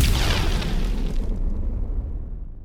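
Redesigned fire magic spell effect for Skyrim, built from layered processed recordings: a loud, whooshing fiery burst with a deep rumbling body that decays over a couple of seconds, alone.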